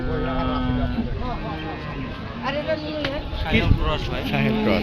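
Cattle at a large cow market in Rajshahi, with occasional low moos and bellows amid a crowded hubbub of bargaining voices, the animals heard close and moderately loud under constant talk.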